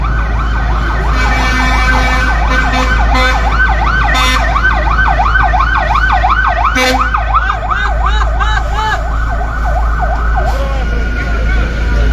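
A loud fire engine siren wails in quick, repeated rising-and-falling cycles for several seconds over noisy crowd chatter and street bustle at a building fire on Tariq Road.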